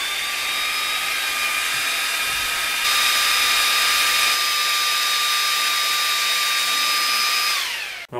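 An xTool D1 40W diode laser runs while etching mild steel, giving a steady high whine and airy fan noise that holds for several seconds before winding down abruptly at the end.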